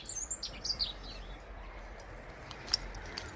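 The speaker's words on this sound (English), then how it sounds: "Birds are now rapidly feeding," Small birds chirp and tweet in an autumn garden, with a cluster of quick high calls at the start and a few scattered chirps later over a quiet, steady background hiss.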